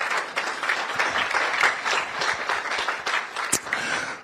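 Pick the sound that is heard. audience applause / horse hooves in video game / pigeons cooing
audience applause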